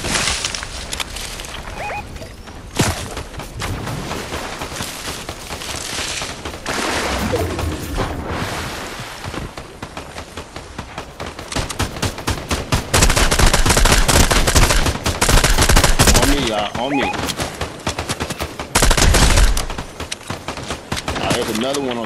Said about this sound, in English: Ah, somebody's shooting at me.